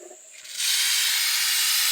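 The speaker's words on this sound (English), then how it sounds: "I guess I can do power washer one-handed." A power washer bursts on and sprays steadily at close range, a loud continuous hiss blasting powder coating off a part after brief quiet.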